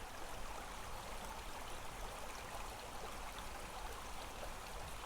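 Steady flowing water, like a stream or small waterfall, runs continuously and evenly at moderate level throughout, with no voices.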